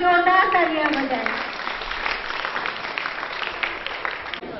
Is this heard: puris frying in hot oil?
no